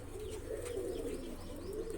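Large white pigeons in a loft give a continuous, soft, throaty cooing that rises and falls, quiet and close, with light chirps over a low hum.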